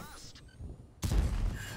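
A tank cannon fires in World of Tanks, from the French tank destroyer Char Futur 4 on the Kharkov map, one sudden heavy boom with a rumbling tail that stays loud to the end.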